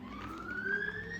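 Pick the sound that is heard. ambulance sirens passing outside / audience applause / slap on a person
ambulance sirens passing outside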